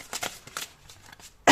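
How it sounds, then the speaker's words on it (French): Tarot cards handled and shuffled close up, a quick series of soft riffling flicks over little more than a second, ending in a sharp sudden burst. "Regardez, les cartes, elles partent... je n'arrive même pas à les tenir."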